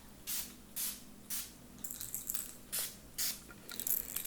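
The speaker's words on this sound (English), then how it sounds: "Just spraying around you and me." Several short, breathy sprays of Florida water from a pump bottle hiss in a loose rhythm, close and fairly quiet, with a few quicker bursts near the end.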